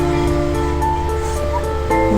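Rushing floodwater during Typhoon Tino makes a steady, loud broadband roar with no pauses, close by, with a slight surge near the end.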